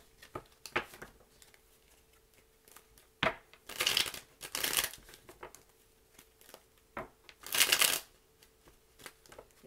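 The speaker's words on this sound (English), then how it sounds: "let's go ahead and continue shuffling" Tarot cards are shuffled in several bursts of crisp riffling and flicking, with quieter handling and soft taps between them, close up and without talk.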